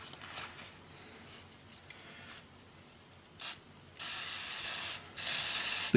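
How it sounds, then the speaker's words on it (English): Aerosol lubricant sprayed onto new rubber stabilizer bar bushings for a 2001 Buick Century, a quiet rustle first, then a short hiss followed by two longer loud bursts of spray near the end. "So what I'm going to do is I'm going to spray them a little bit"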